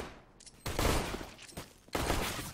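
Counter-Strike gunfire on the map de_dust2 during a competitive match: two loud bursts of rifle fire separated by a short pause, with quieter shots and game noise between them.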